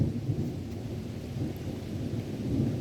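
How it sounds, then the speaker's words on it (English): A thunderstorm rolling in over a porch in Linden, Virginia: steady low thunder rumbles continuously beneath a soft wash of falling rain, moderately loud and without pauses. "listening to the storm come in, watching the storm roll in"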